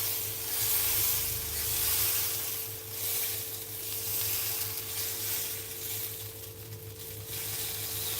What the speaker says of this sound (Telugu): నెక్స్ట్ అయితే దోశ వేసుకుంటున్నాను